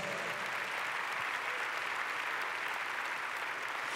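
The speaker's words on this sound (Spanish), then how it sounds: "usted debe darle un aplauso al Señor ahí por eso" A church congregation applauds continuously during a sermon, a dense even patter of many hands clapping, heard from a little distance at moderate volume.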